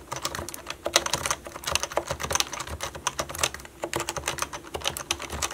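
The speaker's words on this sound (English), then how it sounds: "Those Toper switches provided probably the most soothing typing experience I've ever had." Rapid, continuous typing on a Happy Hacking Pro 2 keyboard with Topre switches, giving soft, muffled keystrokes in quick bursts with brief pauses, close up and alone.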